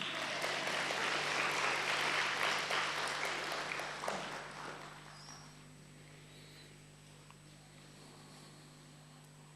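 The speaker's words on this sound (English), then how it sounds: "Now you can clap if you want." Audience clapping after a talk, a dense burst of applause for about four seconds that fades out into a quiet room with a faint steady hum.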